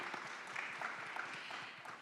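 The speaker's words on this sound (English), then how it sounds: "Can we give her a round of applause," Audience applause following an inspirational story at an Emirati women's leadership event, a steady wash of many hands clapping that stays even and moderately loud from start to finish.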